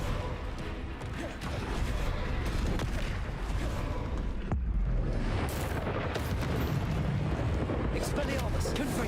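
Confringo blasting spells in Hogwarts Legacy, cast during a troll fight, go off as loud, rumbling booms over a busy, continuous battle roar, with a voice talking throughout.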